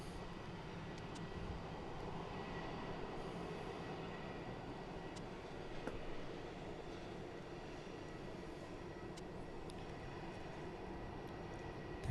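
A British Airways Boeing 777 taxiing for departure at Gatwick Airport, a steady low engine rumble and broad roar heard from a distance, unbroken and even in loudness throughout.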